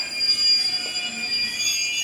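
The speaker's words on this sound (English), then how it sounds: "there's a train pulling in over there" Train pulling into a station in Japan, its wheels letting out a steady high metallic squeal over a low rolling rumble, fairly close and continuous through the short moment.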